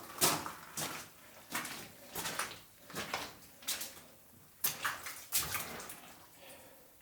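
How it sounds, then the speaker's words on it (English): Water drips and splashes inside an old mine tunnel cut into a cliffside, with irregular bursts of dripping and splashing echoing close by, and footsteps sloshing through shallow water. "What's wild is all this dripping right here."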